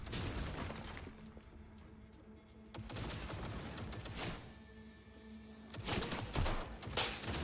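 Bursts of gunfire in the video game Cyberpunk 2077, rapid volleys of shots in clusters with quieter gaps between, fairly close and sharp.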